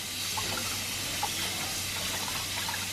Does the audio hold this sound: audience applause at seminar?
no